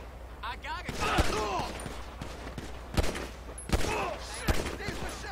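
In GTA V, bursts of gunfire crack out several times, scattered among shouting voices and game dialogue at moderate level.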